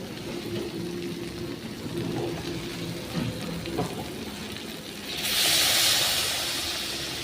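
Hot water poured into a pan of frying chicken sets off a loud, steady hiss that swells suddenly near the end, after a stretch of quieter background sizzling.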